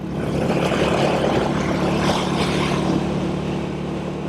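A 1959 Indian Fire Arrow motorcycle engine drones steadily and loudly throughout at about 50 mph, with wind rush over it; no talking.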